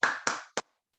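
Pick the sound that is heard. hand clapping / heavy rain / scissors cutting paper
hand clapping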